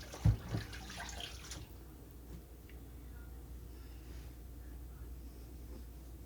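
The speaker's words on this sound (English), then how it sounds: "Now I'm washing off my hands." Hands being washed under a running kitchen tap: a sharp splash and clatter at first, then a steady, soft rush of water that continues to the end, with no talking.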